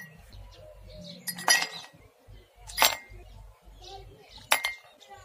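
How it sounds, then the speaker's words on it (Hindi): Ice cubes drop into a glass being prepared for lemon mint sharbat, giving three separate sharp, bright clinks spaced a second or so apart, close up, over quiet room sound. "अब हम इसमें आइस क्यूब डाल देते हैं।"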